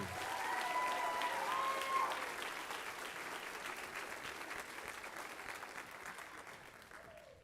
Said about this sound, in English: Let's give another round of applause for our 25 drum majors.